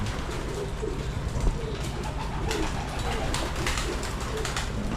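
Pigeons coo softly and repeatedly at a loft during courtship, the low calls recurring steadily under a constant background hiss with occasional faint chirps.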